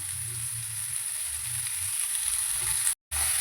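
Onions sautéing in a pan make a steady, moderate sizzle that runs unbroken apart from one brief gap near the end, with no stirring strikes or voices.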